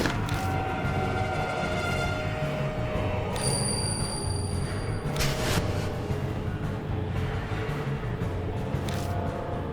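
A bell chimes in the Death Mark (Spirit Hunter) horror game, a couple of clear ringing tones that sound over a constant low ambient rumble, with no voices.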